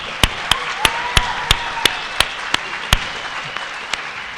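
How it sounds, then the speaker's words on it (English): A small audience at a high school movie festival claps in a sparse, steady rhythm, about a dozen distinct, fairly close hand claps spaced evenly over a few seconds. "let's give another round of applause to everyone in that movie"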